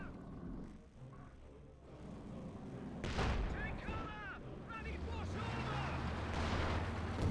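A mine detonates against a trench in Company of Heroes 2, a sudden booming blast with rumbling debris and continuing battle noise, while a commentator talks over it.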